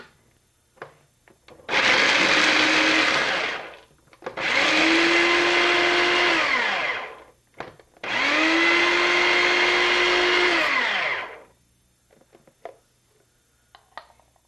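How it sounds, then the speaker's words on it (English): Three long, loud bursts of a food processor grinding a cup of halved walnuts, each steady whirring run separated by short pauses, with no talk. "I'm going to just take a cup of halved walnuts, put them in my food processor, and give it a whirl"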